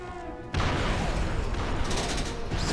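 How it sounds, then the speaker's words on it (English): Battle noise from the Star Wars Republic Commando video game: a sudden loud blast erupts after a quieter stretch, then dense, continuous gunfire and explosions rumble on with scattered sharp cracks. "Explosions everywhere!"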